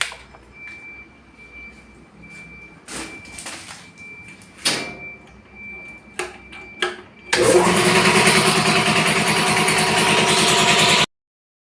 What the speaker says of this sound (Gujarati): ફાઇનલી મિત્રો આપણે કમ્પ્રેસર ચાલુ કરી નાખવી